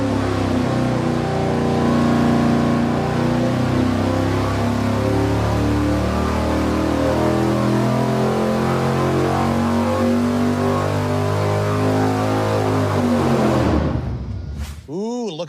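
Racing V8 engine with stiffer 0.135-wall pushrods pulling hard on a dyno, a loud sustained roar sweeping up in pitch over many seconds before cutting off abruptly and winding down near the end.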